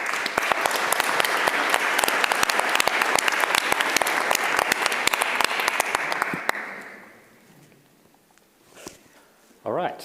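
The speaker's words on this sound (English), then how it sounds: "Please give a warm round of applause for Caleb Althorpe." A warm round of audience applause for a speaker at an evening talk: dense, loud clapping that holds steady for several seconds, then fades quickly into quiet room noise with faint rustling and footsteps.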